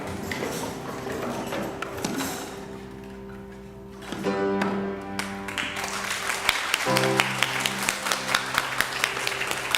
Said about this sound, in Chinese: 我们掌声谢谢大红班的表演